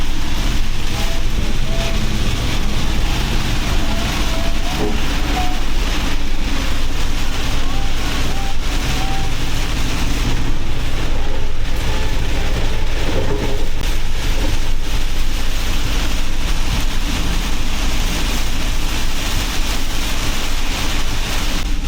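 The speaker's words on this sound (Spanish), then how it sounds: "se agarró la lluvia con todo y venimos a 60, 65." Dense, constant roar of heavy rain and road noise inside a moving vehicle, loud and unbroken throughout.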